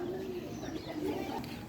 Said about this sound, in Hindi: इसको हम गानी वाला कबूतर कहते हैं